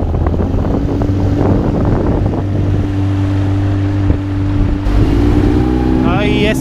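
A Storm 13.5 two-stroke outboard motor drones steadily on a pontoon boat out on the water, with wind buffeting the microphone and a voice talking over it; the engine note shifts and rises near the end.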